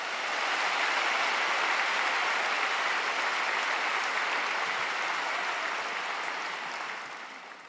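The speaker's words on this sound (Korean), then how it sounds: "박수로 모시겠습니다." A church congregation claps steadily for several seconds to welcome a guest pastor to the pulpit. The dense, even applause swells quickly and fades gently at the end, with no talk over it.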